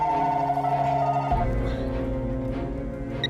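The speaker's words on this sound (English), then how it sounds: "At 3 a.m. that night, Carla uses her cell phone to call their home line." A home landline phone rings in the small hours, its electronic tone holding steady and then shifting pitch partway through. The ringing is loud and close, with a dense layer of other sound beneath it.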